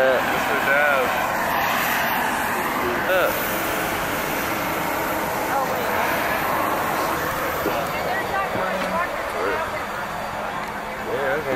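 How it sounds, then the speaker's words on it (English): Steady drone of a small propeller airplane heard from inside the cabin in flight, a continuous broadband roar running throughout, with people talking over it. "A tiny ass plane."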